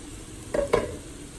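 Smoked sausage cooking in a pot, a low constant sizzle with two short scraping clanks as the lid or spoon moves against the metal.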